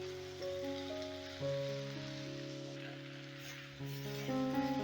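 Cashew and poppy seed paste frying in spiced oil in a pan, giving a steady, soft rain-like sizzle that runs continuously beneath prominent sustained background music.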